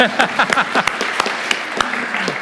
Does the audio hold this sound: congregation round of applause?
yes